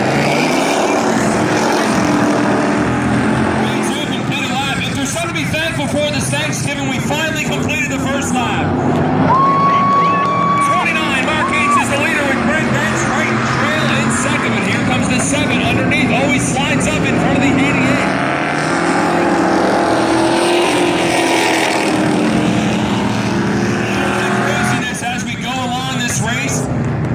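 Modified-class race cars roar around Valley Raceway during a feature race, engines droning continuously and rising and falling as they pass, under a commentator's running talk.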